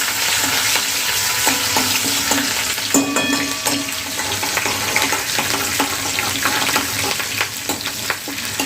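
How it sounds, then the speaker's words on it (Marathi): Green chillies and curry leaves frying in hot oil, with a steady loud sizzle and crackle plus intermittent scraping of a spoon stirring in the pan, no talking. "तर मिरचीला चांगलं आपण फ्राय करून घेऊया"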